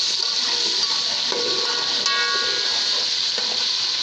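Garlic hits hot oil for a chicken korma tempering and sizzles loudly and steadily. The constant, close hiss continues without a break.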